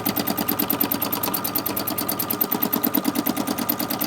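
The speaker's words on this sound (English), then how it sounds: "So please excuse the noise of my sewing machine." Electric sewing machine stitching through paper vintage postcards, a steady fast mechanical chatter of needle strokes, close and loud throughout with no voices.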